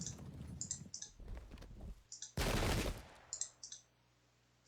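Musket volleys in the Pike and Shot game at the Battle of Adwalton Moor 1643, a crackling spread of shots followed by one dense, loud roaring burst, with scattered clicks and quieter shots before and after.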